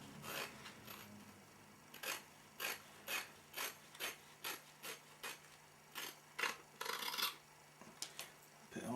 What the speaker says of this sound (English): Love these curved scissors, they're brilliant